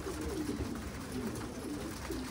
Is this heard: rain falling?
no